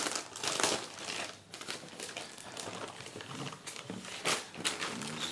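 Packaging crinkles and rustles as a Cherry MX Board 6.0 keyboard comes out of its box, close and fairly loud, with irregular crackling bursts throughout and no talking.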